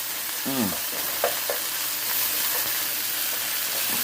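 Fresh purple onions sizzle steadily in a hot pan inside a camper van, with a continuous loud hiss and a few brief stirring scrapes, plus a short vocal sound near the start.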